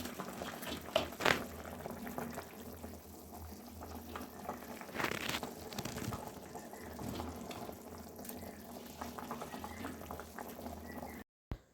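Water at a rolling boil in a pot for a Bengali fish curry, a steady bubbling hiss with a few louder clinks and stirs, close and continuous.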